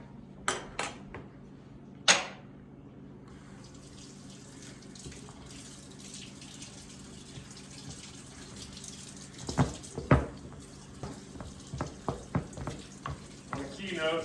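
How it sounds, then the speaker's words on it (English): A blender jar gets rinsed under a running kitchen tap, with a steady stream of water splashing and sloshing, broken by a few sharp knocks and clatters near the start and toward the end. "immediately rinse out of your blender, otherwise it turns to concrete"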